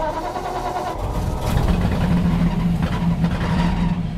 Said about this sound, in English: Okay, so we're going to try and restart it after I just stalled it.